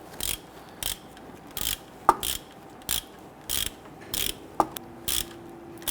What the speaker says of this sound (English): Install the screw. I want to go ahead and snug that down.